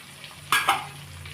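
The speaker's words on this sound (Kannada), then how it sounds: "ಇವಾಗ ನಾವು ಎಲ್ಲದನ್ನು ಹೀಗೆ ಕಲಿಸ್ಕೊಳ್ಳೋಣ." A spoon stirs a curry mixture of turmeric, salt and dill leaves frying in a little oil, with two short scraping strokes over a soft, steady sizzle.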